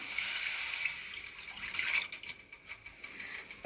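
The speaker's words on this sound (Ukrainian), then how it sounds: "Заливаємо воду у сотейник" Water poured from a tap into a saucepan to start apple mousse, a steady bright hissing rush that thins toward the end into broken splashes and trickles, close and alone.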